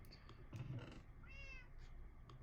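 A house cat gives a short, faint meow with a wavering tone near the middle, set against quiet background noise with no talking.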